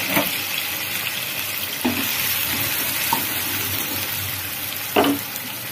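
Onions with cardamom, cloves and cinnamon frying in a wok, giving a steady broad sizzle with a few soft clanks and stirring scrapes, no voices.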